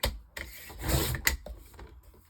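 A cutter slicing a small bit off a journal page, a short close scraping pass with a faint rasping texture and a quick snap near the end.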